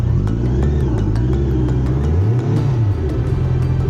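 A motorcycle stuck with its rear wheel in a muddy trench revs loud and close, its engine note rising and falling continuously as the spinning wheel slides and drags.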